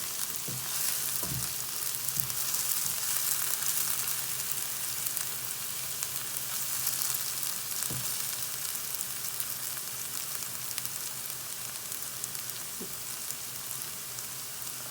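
Tomato puree frying in a pan for an Odisha-style fish curry, a steady close sizzle with soft crackling and a few faint low bumps throughout, no talking.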